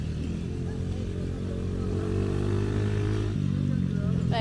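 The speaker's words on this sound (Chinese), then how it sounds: "越野摩托。 哎，有人玩呢。" Off-road dirt bike engine running nearby at a reunion gathering, a steady loud rumble with rising revs partway through, under continuous talk.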